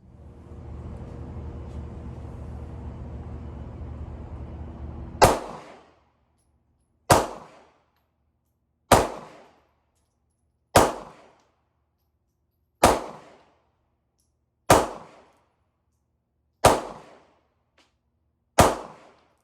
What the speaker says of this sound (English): ideally, it'll be 8 shots and then a dry fire